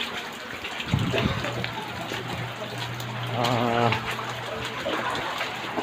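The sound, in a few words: floodwater flowing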